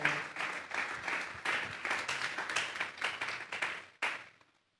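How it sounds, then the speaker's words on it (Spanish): A church congregation claps together in sustained applause offered to God, a dense roomful of hands that swells in waves and then tapers off quickly at the end. "Vamos a darle una ofrenda de palmas a Dios en esta hora."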